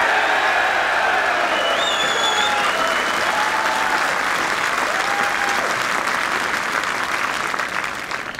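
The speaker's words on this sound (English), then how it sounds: "he had a big cheer when he arrived on the first tee" Spectators at The 148th Open give a golfer sustained applause on the first tee, a dense, steady clapping crowd close by that fades slightly near the end.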